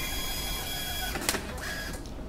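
A Custom Engineering TG2460 ticket printer runs through a print job, a steady mechanical whir with a brief louder burst of feed or cut noise partway through, close and on its own with no talk.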